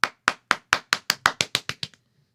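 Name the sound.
clapping sound effect from a soundboard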